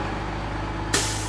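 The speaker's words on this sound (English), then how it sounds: "Whoops, we got lots of traffic here. We'll wait till these guys go by." Heavy traffic rumbles past, with a truck's air brake releasing a sudden sharp hiss near the end over the steady low engine drone.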